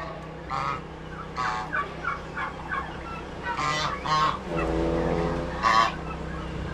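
Several bursts of turkey gobbling ring out over a steady low background hum at a farm with nesting boxes, some calls overlapping, with honking fowl-like cries mixed in nearby.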